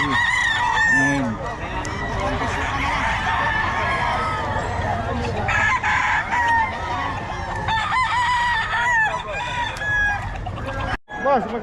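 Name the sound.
roosters and chickens crowing and clucking at a market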